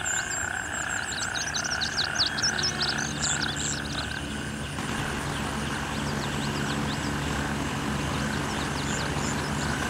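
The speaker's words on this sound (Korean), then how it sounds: "벌레 소리, 개구리 소리가 많이 들리는데 진짜 제 옆에 있는 것 같은 놀라운 입체감과 공간감을 보여줍니다" Insects chirping and frogs croaking in a wild setting in the military shooter game Gray Zone Warfare, with dense repeated frog calls over a continuous buzzing insect chorus and a steady low hum, no voices.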